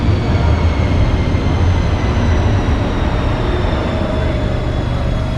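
A metro train passes at Vuosaari, a steady loud broadband rumble of wheels and running noise with a faint high whine, continuous and close throughout.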